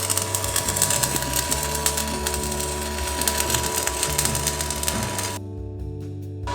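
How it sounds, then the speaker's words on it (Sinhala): MIG welding at 110 amps on a Riland MIG180 pulse welder, a steady crackling buzz with dense broadband hiss running continuously for over five seconds, then stopping abruptly and leaving a low hum. "දැන් අපි වෙල්ඩින් කරලා බලමු ඇම්පියර් 110ට."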